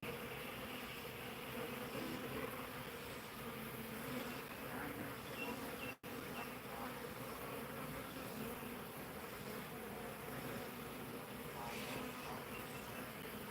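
Bees swarming around a hive, a steady, dense buzzing that is faint and continuous throughout, with one brief dropout partway.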